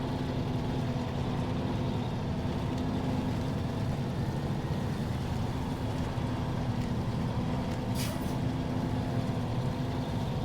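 A truck in the SnowRunner video game idles and reverses with a steady, droning engine hum throughout, constant and fairly loud, with a brief hiss near the end.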